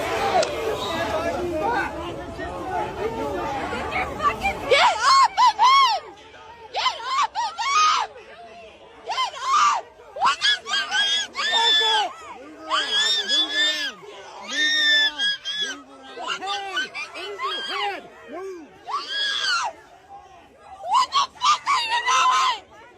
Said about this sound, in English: The autistic screeching of these commies is hilarious to watch.